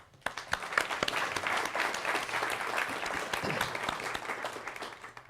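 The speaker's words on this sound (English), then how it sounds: "give him a round of applause" A crowd claps steadily for several seconds, a dense, even patter of applause filling the room, fading slightly toward the end.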